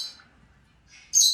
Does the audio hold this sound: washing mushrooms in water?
no